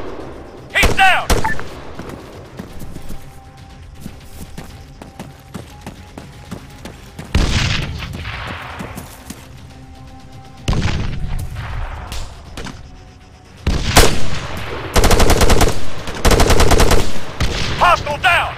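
Gunfire in the Arma 3 combat game: loud bursts of machine-gun fire and heavy booming shots, separated by quieter gaps and ending in sustained rapid volleys, with no voices heard.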